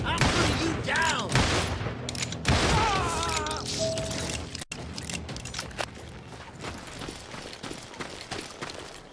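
Rapid gunfire and fusillades in the Western shooter game Call of Juarez Gunslinger, with repeated shots and impacts throughout and a brief voice at the start.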